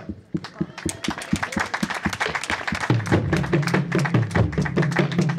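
Scouts clap in thanks to the Burundian government, a dense patter of many hands throughout, with a voice speaking over the clapping in the later part.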